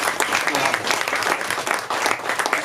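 Audience applause at a live CozTalks talk event in Cozumel, Mexico: a dense, sustained wash of many hands clapping at steady loudness, with a few voices mixed in.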